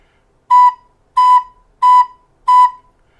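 Four clean, steady recorder notes with every finger hole fully sealed, from a beginner's lesson, evenly spaced, clear and alone with no talking.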